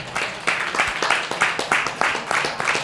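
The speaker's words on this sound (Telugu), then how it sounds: "గట్టిగా చప్పట్లు కొట్టి పరుద్దాం." A church congregation claps loudly in unison, a strong regular rhythm of about two to three claps per second that carries on throughout, with faint voices mixed in.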